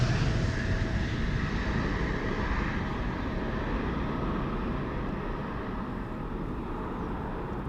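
A 26-year-old United Boeing 777-200 roars down Amsterdam's Polderbaan runway on takeoff, a loud, steady broadband jet rumble that slowly fades as the aircraft pulls away.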